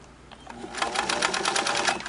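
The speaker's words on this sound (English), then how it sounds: "I'm going to start the machine in reverse" A Singer 329K sewing machine stitches in reverse through seven layers of fabric, its rapid mechanical clatter building from slow and faint into a quick, steady rhythm at close range.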